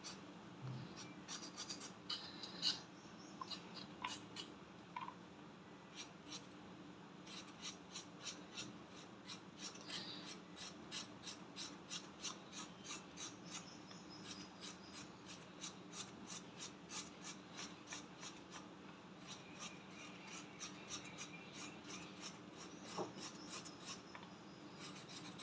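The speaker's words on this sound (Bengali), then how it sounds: "তো পটলটাকে কিভাবে পিল করছি দেখাচ্ছি। একটা ছুরি নিয়ে এর গাটা এরকমভাবে" A knife scrapes the skin off a large pointed gourd (potol) in a kitchen, a close, steady run of quick rasping strokes that repeats for the whole stretch, with no talking.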